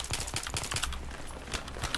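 Heavy automatic gunfire in Battlefield 3, rapid close shots in uneven bursts with a steady rumbling background of battle, loud and continuous, with no talk.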